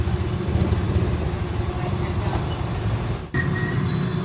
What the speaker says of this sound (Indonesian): Nah, ini ada berbet-berbet di bawah. Ini motornya Honda Genio.